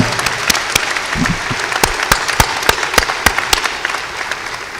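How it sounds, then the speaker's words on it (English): A high school graduation crowd claps steadily in a hall, the individual claps sharp and close, forming a few seconds of sustained, lively applause with no speech over it. "Another round of applause for her, ladies and gentlemen."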